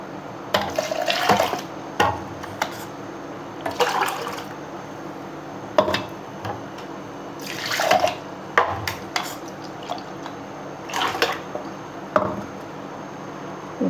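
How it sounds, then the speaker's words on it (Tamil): Ground garlic paste is poured into tamarind water and stirred by hand in a bowl, giving intermittent splashy sloshing and mixing bursts separated by brief pauses, close and moderately quiet with no talking. "புளி கரைச்சி வச்சுருக்கோம்ல அதில் ஊற்றிக்கணும் எல்லாம் போட்டு கரைச்சிக்கணும்"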